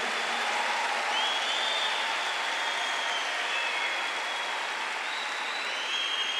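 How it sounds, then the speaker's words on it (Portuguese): Church congregation applauding during a Holy Week sermon, a steady wash of clapping from a large crowd, heard at a distance and fairly faint, with no talking over it. "Aplaude com toda a força essa palavra."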